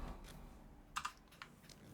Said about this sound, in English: I really don't like that I have to like push a button on my keyboard